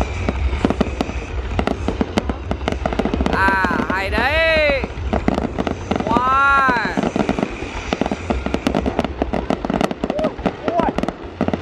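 Fireworks welcoming the 2019 Lunar New Year in Yen Bai, Vietnam, crackle and pop in dense rapid volleys throughout, while nearby people talk and exclaim over the steady barrage.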